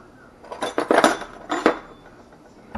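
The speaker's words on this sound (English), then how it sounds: "Let me grab a clean teaspoon." Metal teaspoons and other cutlery clink and rattle close by as a spoon is picked out from among them, two short bursts of bright jangling in a quiet kitchen.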